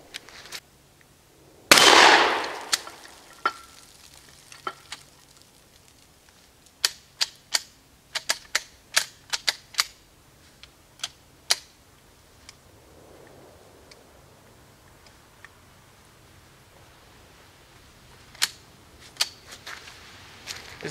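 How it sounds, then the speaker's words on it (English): Remington 870 Express pump shotgun fired at steel targets outdoors: one loud blast near the start, then a long series of sharp, fairly faint cracks and pings scattered irregularly, ending with a few more spaced hits. "We're going to try out our new Remington 870 Express on some steel"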